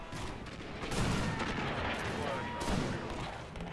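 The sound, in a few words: gunfire volleys in a video game battle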